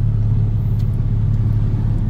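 Road traffic heard from inside a vehicle on the way to a venue: a close, steady low engine rumble that holds without breaks, with no voices.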